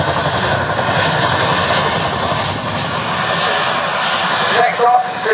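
A Chinook twin-rotor helicopter flies a role demo display at the Duxford summer airshow in 2025, making a loud, steady, close roar throughout while a voice speaks over it.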